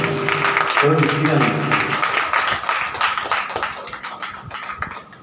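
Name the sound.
congregation clapping hands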